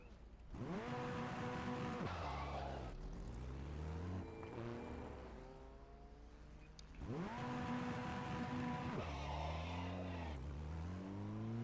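Formula Ford 1600 race car in iRacing at Lime Rock, making a standing start from pit exit: the engine revs up in rising harmonic sweeps through several gear shifts, drops back, then launches and climbs again, loud and steady throughout.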